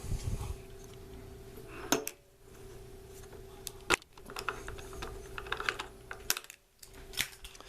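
A depth rod slid out of an SD2 kit makes faint, sparse metallic clicks and small scraping sounds, a few sharper ticks standing out against a quiet background.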